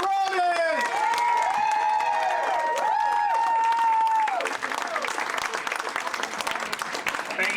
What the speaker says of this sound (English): keep the clapping going until he gets here